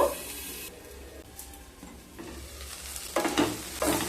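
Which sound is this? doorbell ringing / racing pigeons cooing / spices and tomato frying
spices and tomato frying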